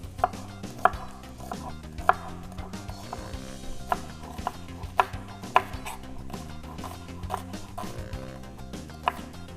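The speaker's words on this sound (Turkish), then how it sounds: "O zaman işe hemen soğanlarımla başlayayım. Yine bunları da yemeklik doğruyorum." A knife chops onions on a board, a steady series of sharp, close taps with a few louder strikes, alone without talk.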